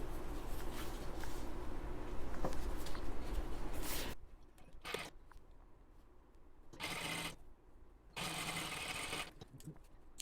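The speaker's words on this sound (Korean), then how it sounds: "겉과 겉이 마주보게 겹쳐서 1cm 간격으로 박음질 할 거고" A sewing machine stitches a pocket on two-tuck wide slacks. It runs in a steady whirring burst for about four seconds, then in shorter stop-start runs, close up with no talking.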